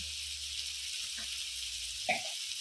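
A spice masala with cumin and coriander powder, cooked for a mutton and potato curry, sizzles in hot oil with a continuous fairly close hiss and a couple of brief stirring knocks, without talk.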